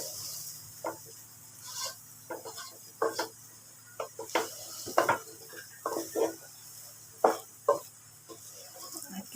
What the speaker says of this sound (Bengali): এভাবে চাল ডালগুলা তেলের মধ্যে দিয়ে ভালো করে ভাজলে তাইলে খাইতে মজা লাগে আর কি